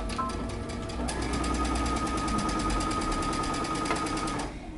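A sewing machine runs steadily and close, stitching a pants seam from a Simplicity 8093 pattern with a fast, even needle rhythm that continues without a break until it eases off at the end.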